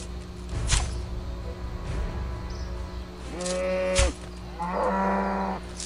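Several cow moos from the RuneScape video game, one short call and then longer drawn-out lowing with clear tonal bands, set over a soft background of game sounds.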